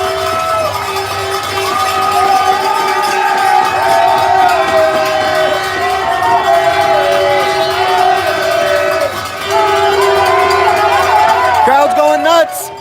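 A youth hockey crowd at a Jr. Kings vs. Team Minnesota semifinal in Quebec roars after a goal, loud sustained cheering with horns and noisemakers blaring over it, a brief dip, then a renewed surge.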